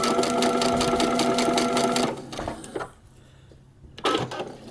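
A sewing machine stitches a paper piecing block at a short stitch length, a fast steady rattling hum for about two seconds, then stops, followed by faint handling noises and a brief final whir.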